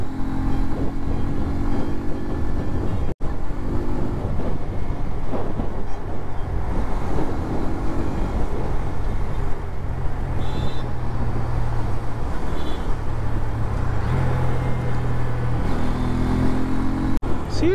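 A Bajaj Pulsar N125 125cc motorcycle being ridden, its steady engine drone and road rumble running continuously and fairly loud, with a sharp brief click partway through.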